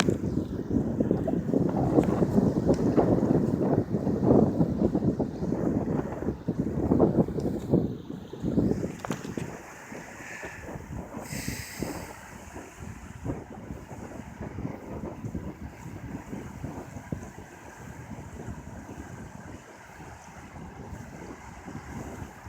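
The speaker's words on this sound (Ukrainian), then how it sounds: "Вітер піднімає хвилі в цій затоці" Wind gusts across a Pacific Ocean bay near San Francisco, buffeting the microphone while choppy waves wash and slap nearby, loudest at first and then settling into a steadier, softer rush.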